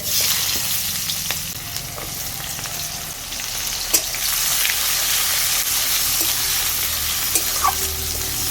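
Chopped onion added to hot oil with five-spice seeds, frying steadily in a pan for a fish-head and Malabar spinach dish, a continuous close sizzle with occasional stirring clicks and no talking.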